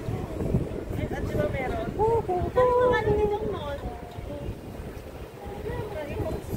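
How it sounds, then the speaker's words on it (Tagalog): Strong wind buffets the microphone outdoors in Kaohsiung, a steady low rushing roar filling the whole stretch while people talk over it. "So windy here."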